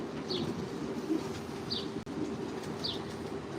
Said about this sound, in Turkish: Bunların kuşları da Gökhan arkadaşımızın kuşları da genelde renkli.